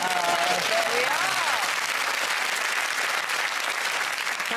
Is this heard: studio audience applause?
yes